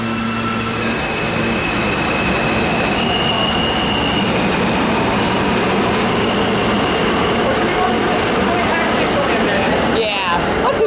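A New York City subway R train rumbles steadily and loudly close by, wheels and motors roaring on the rails with a faint squeal, the noise fading near the end; people talk underneath.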